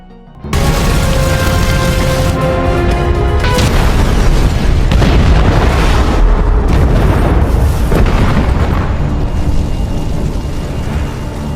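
A huge, sustained explosion in a film roars and rumbles for several seconds, loud and booming, with crackling debris and heavy low rumble throughout.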